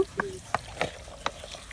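Spices being stirred in a frying pan while cooking beef, a few sharp scraping strokes of a spoon against the pan spaced about every third of a second over a soft sizzle, close and fairly quiet.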